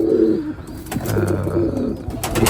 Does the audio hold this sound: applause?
no